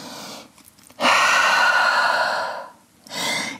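Deep, slow breath during yoga practice, a long loud airy exhale lasting over a second, then a shorter breath after a pause, close and alone with no talk.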